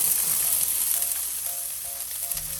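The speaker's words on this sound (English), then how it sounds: "We're going to oil up our pan again and throw in our onions." Onions sizzle in a hot oiled pan, a close, steady hiss with small crackles and a few light clinks of utensils.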